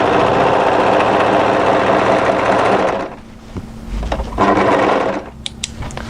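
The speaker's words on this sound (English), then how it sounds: "we're going to overlock off." Overlocker serging the seam of a slim draped cardigan runs loud and steady for about three seconds, then stops, leaving quieter handling noises and brief mechanical bursts.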